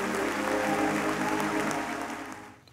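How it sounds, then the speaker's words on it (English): A church congregation claps in praise, a dense wash of applause held steady and then fading away at the end. "Would you give the Lord a hand clap of praise?"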